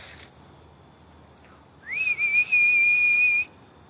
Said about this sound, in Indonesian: Siul lagi